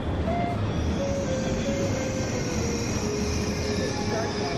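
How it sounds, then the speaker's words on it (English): Steady rumble of a Eurostar train at a Paris station, with faint metallic tones and a hollow station ambience, continuous and moderately loud throughout. "We're at the train station and we're going to train back to London."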